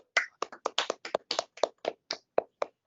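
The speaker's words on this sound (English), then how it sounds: "It's funny hearing the clapping" A small group clapping at the end of an online mathematics talk, around a dozen sharp, distinct claps in a loose steady rhythm, close and fairly quiet with no talk.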